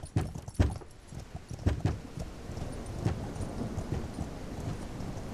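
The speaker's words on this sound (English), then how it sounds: "Let me use my horse to bash that door down for you guys." A horse clopping and thudding against a door in the open-world RPG Ertugrul of Ulukayin, a run of uneven hoof-like knocks at first that thin out under a steady rumbling bed of ambient game noise.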